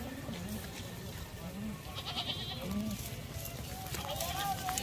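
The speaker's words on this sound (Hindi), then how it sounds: "130 बकरा है, सारे खूबसूरत माशाल्लाह से" Goats bleating in a livestock market with a herd of about 130, several wavering calls rising over a busy crowd and steady talk nearby.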